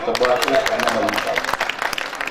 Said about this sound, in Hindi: दोस्तों इस मुशायरे की जिंदगी के लिए एक बार जोरदार तालियों से